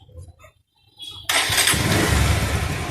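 A Bajaj Pulsar BS4 motorcycle engine cranks and catches, then settles into a loud, steady rumble close by, after a second of near silence.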